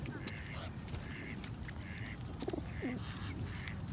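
Ducks and geese being fed at Lake Balboa Park, soft repeated quacks and honks at a moderate distance, faint and low, with a voice talking quietly among them.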